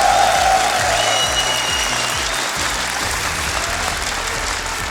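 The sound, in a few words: stadium crowd applauding esports players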